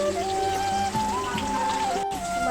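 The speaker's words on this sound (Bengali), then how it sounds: "এবার আমি মাছটাকে ভাজবো" Katla fish fries in a pan with a steady, dense crackling sizzle that stays close and even throughout, over a faint tonal background.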